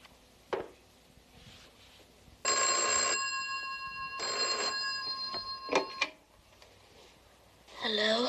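An old-style telephone bell rings in two long bursts, close and loud, with a few short sounds around it.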